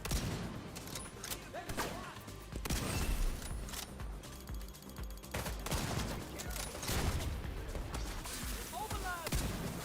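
Dense, continuous volleys of gunfire and a grenade blast in the shooter video game The Division, loud and layered throughout with sharp cracks and clattering mechanical sounds.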